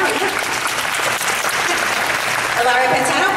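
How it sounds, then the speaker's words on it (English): A crowd applauds politician Ilario Pantano, a loud, thick, unbroken wash of clapping with some voices and cheers blended in, sustained at even strength. "big applause for Ilario."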